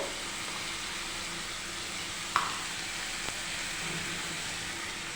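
Food sizzling steadily in a frying pan while being stirred, with a couple of sharp spoon clinks against the metal partway through; fairly quiet and close, no talking.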